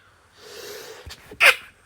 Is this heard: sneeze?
yes